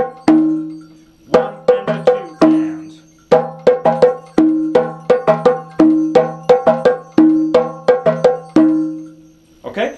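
Three batá drums, iyá, itótele and okónkolo, playing a rhythm for Ochosi: crisp, close slaps and open tones in a repeating interlocking pattern, with a brief spoken count at the start.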